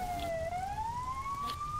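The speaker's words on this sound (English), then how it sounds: "Oh, sirens are on." Police car siren in Arma 3, a single wailing tone sliding slowly upward, steady and fairly loud, heard alone over a low rumbling background.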